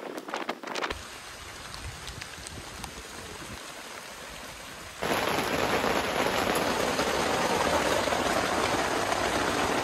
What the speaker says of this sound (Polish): Idzie już deszcz.